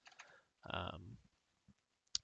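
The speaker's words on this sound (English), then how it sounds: "I'm typing FG for foreground. I'm going to hit enter twice." A few sparse, quiet clicks of keys being pressed on a computer keyboard, heard close up with silence between them.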